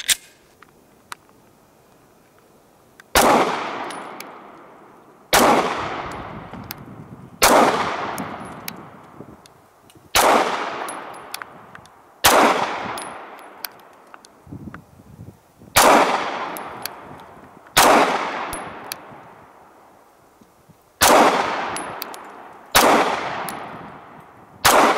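An HK VP9 9mm pistol fires ten separate, sharp, loud shots at a steady pace, each report cracking hard and then ringing away briefly outdoors.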